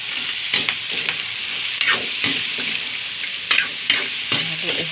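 Bottle gourd and glass noodles being stirred in a sizzling pan, with a steady frying hiss broken by repeated scraping strokes of a utensil against the pan, close and clear.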